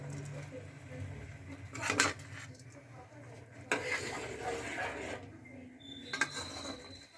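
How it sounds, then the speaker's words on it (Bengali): Rice is poured into a cooking pot holding water for khichuri, with a few brief rattling, pattering bursts separated by quiet stretches of faint background noise. "এবার আমি চালটা দিয়ে দিচ্ছি।"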